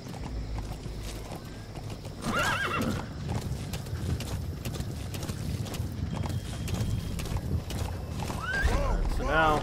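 Hooves clip-clop steadily throughout, with a horse whinnying loudly near the start and again near the end, over a low rumbling game-world background in Metal Gear Solid 5: The Phantom Pain.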